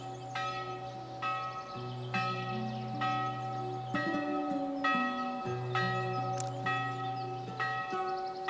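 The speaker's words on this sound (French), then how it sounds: "Que se passe-t-il avec la cloche?" A church bell rings repeatedly in a steady series of clear, resonant strikes, each tone sustaining into the next, fairly quiet and with no talk.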